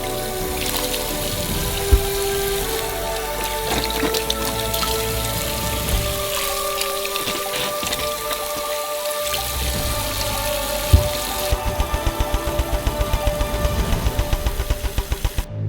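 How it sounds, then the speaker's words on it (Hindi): Oranges being washed by hand in a sink filled with water, with steady splashing and running-water noise, close and fairly loud, ending in a rhythmic series of sloshing strokes. "प्रत्येक ऑरेंज को अच्छी तरह से धोया जाएगा।"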